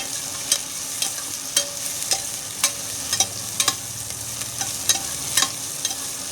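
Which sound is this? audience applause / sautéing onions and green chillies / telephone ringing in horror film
sautéing onions and green chillies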